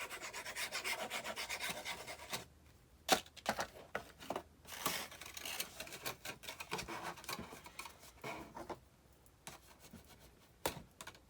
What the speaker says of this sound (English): you might want to take your burnishing tool and your bone folder and just rub it on there to get it good and stuck down